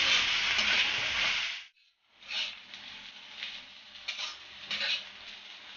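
Bitter gourd and potato with poppy seeds frying in a pan: a loud sizzle breaks off briefly, then resumes with rhythmic scrapes and clinks of a spatula stirring the vegetables.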